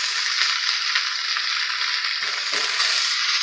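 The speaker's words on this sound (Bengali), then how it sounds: "টমেটো সস দিয়ে ভালোভাবে নেড়ে চেড়ে নেব" Pasta is stirred in tomato sauce in a hot pan, giving a loud, steady sizzling hiss that runs throughout with faint scraping movement and no voices.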